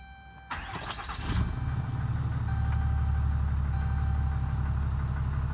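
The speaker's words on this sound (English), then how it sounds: "whenever you turn your truck on" A 6.7L Cummins diesel engine in a 4th-gen Ram pickup cranks and catches after a brief starter whir, then settles into a steady, loud, low rumbling idle close by.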